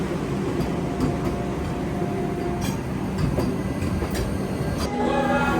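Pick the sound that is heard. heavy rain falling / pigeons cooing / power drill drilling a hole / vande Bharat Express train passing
vande Bharat Express train passing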